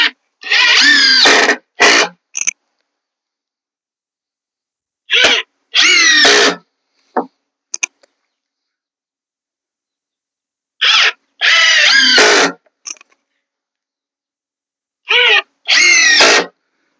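A power drill drives screws into wooden sandbox boards in four separate bursts, each a loud whirring spin lasting a second or two, with short pauses and clicks between them and no talk.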